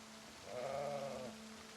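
A lone sheep bleat from a grown ram or lamb in the Project Zomboid Build 42 farm, one drawn-out mid-pitched call lasting under a second over faint steady rain, with no talking.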